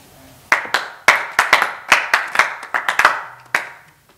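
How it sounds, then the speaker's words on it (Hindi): A sparse audience at a student election claps for a candidate, giving a short burst of loud, close, irregular hand claps that trails off after a few seconds. "अरे क्या बस इतनी सी तालियां मेरे लिए?"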